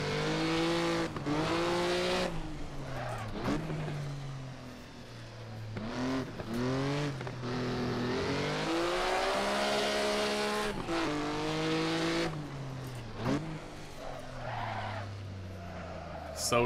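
A Maserati 250F race car at Monaco, its engine revving hard and shifting pitch through gears, rising and falling with braking and acceleration, near and loud throughout.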